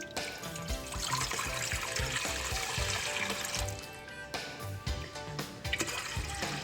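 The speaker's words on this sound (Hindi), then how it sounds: "सबसे पहले इसमें मैं ऐड कर दूँगी पानी।" Water pours steadily into a thick-bottomed cooking pot for about two liters, a continuous splashing gush that fills the clip with a few brief breaks near the end.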